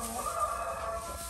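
Hens of a red-shouldered heritage breed cluck softly in a short, faint burst near the coop, with a low background hum and no voices.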